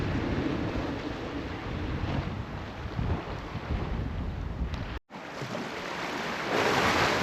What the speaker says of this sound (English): Sea splashing up here at Goodrington Sands.